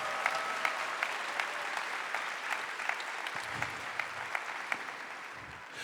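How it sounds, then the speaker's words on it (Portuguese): A church congregation at Mass applauds loudly in praise, a full, sustained wash of clapping with individual sharp claps popping out rhythmically, tapering slightly toward the end with no talking. "Então dá uma salva de palmas para nosso Senhor bem forte"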